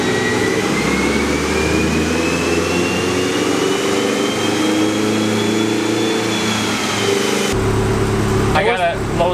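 A quad-turbo Honda Civic running on a dyno, its engine droning loudly and steadily with a rising turbo whine, then shifting pitch near the end.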